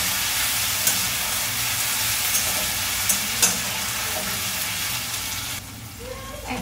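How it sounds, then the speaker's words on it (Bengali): Ginger garlic paste fries and is stirred in a pan, giving a steady close sizzle with occasional scraping knocks of the utensil, fading quieter in the last second. "আদা রসুন বাটাটা দিয়ে ভালো করে নাড়িয়ে নেব।"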